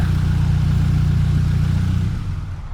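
A Honda Travo motorcycle engine idling close by, a loud, steady low throb that holds evenly, then falters and fades as the engine is switched off near the end.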